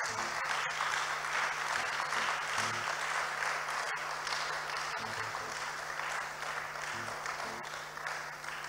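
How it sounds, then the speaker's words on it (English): Church congregation at a Tuesday service clapping together, a continuous, fairly soft wash of applause with a low steady hum underneath and occasional sharper single claps. "Give a clap to God that you are still alive."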